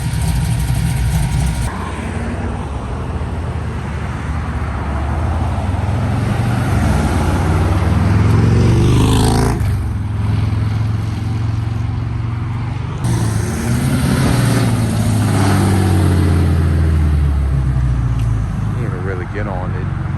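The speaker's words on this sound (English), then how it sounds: "this truck right here sounds so crazy" A loud truck engine idles and revs at a car meet outside a diner, deep rumbling swells rising and falling close by, with voices and other traffic noise around.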